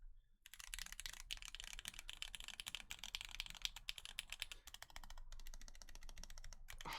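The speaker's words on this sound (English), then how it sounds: "Let's see how this sounds." Rapid mechanical keystrokes on a Hiney numpad fitted with lubed Lavender switches, a steady close run of crisp clacks and taps for several seconds with only brief pauses.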